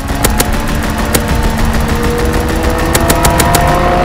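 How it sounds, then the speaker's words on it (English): Machine gun bursts crackle from a fighter plane's strafing run in Call of Duty WWII, sharp staccato volleys repeating in clusters over a steady engine drone and battlefield rumble, fairly loud and close. "Call for a strafing run."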